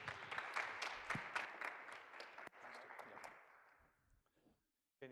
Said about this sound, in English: Please give David a big round of applause.